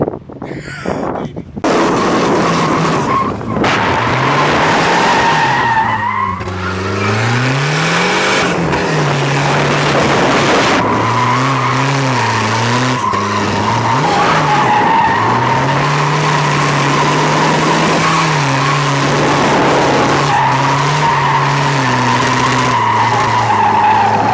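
A car drifting sideways at a drift event, loud and continuous: the engine revs up and down while the tires skid and squeal in long sweeps for the whole stretch.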